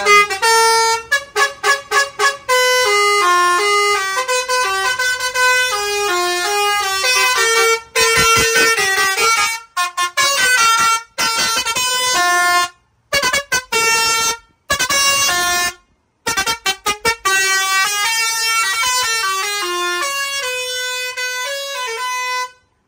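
A Transtron voice warning horn on a truck is sounded during a sound check, giving loud, tonal, rapidly repeating electronic blasts and melodic horn phrases with short pauses between bursts.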